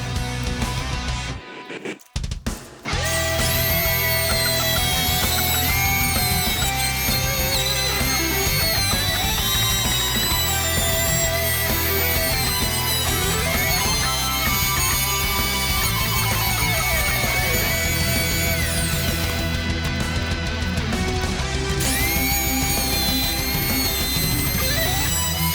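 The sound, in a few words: router with top bearing bit trimming guitar neck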